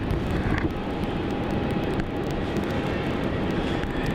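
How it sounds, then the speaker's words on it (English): A China Southern Airbus A350-900 arrives at Melbourne Airport from Guangzhou, producing a constant broad jet roar that holds evenly throughout, with no talking. "Enjoy this arrival of the China Southern A350-900 arriving in from Guangzhou."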